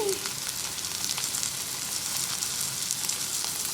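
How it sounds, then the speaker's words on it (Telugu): Ivy gourd pieces and green chillies fry in a pan over a medium flame, giving a steady, close hiss of sizzling oil that runs unbroken from start to finish with no talk. "ఫ్లేము మీడియం ఫ్లేమ్లో పెట్టుకొని మగ్గించుకోండి దొండకాయ ముక్కలు పచ్చిమిర్చి ఇలా వేగాక"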